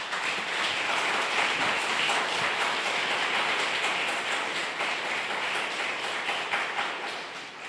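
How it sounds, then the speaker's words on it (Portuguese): A retreat audience bursts into dense, sustained applause, a loud wash of many hands that holds steady and then begins to fade at the end, with no talking. "Pode aplaudir."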